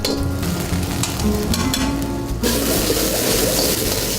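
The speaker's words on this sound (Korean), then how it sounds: "마른 해삼에 버섯, 채소 등을 넣고 강한 불로 볶아 만드는 해삼탕." Rehydrated dried sea cucumber with mushrooms and vegetables stir-fried in a pan over high heat, giving a loud, steady, close sizzle that shifts in texture partway through as the food is tossed, with no voices.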